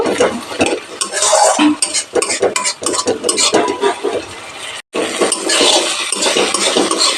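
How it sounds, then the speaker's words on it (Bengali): Tomato masala fries in a pan while a spoon scrapes and stirs it repeatedly, producing close, loud, rhythmic scraping over a steady sizzle, with one brief cut partway through. "নেড়ে দিচ্ছি টমেটো কুক অব্দি কষিয়ে নেব"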